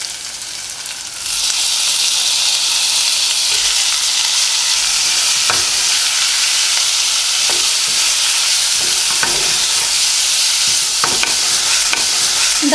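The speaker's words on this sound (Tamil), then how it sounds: "இப்போ ஃப்ளேமை மீடியம்ல வச்சுட்டு நம்ம prawn போட்டுக்கலாம்." Prawns hitting a hot pan on a medium flame for a roasted garlic prawn dish, bursting into a loud, steady sizzle that carries on without a break, broken by a few sharp scrapes and stirs.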